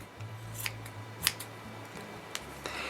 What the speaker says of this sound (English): And then you just cut all the excess.